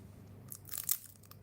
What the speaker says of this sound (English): You heard how crunchy it is.